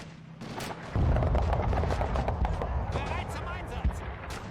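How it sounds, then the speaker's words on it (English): Rifle fire in the video game Men of War: Assault Squad, set in a 1944 German counterattack during the invasion of Germany. Booming shots and battle noise come dense and fairly loud, with explosions mixed in and a voice talking throughout. "Man killed anyway by rifle fire."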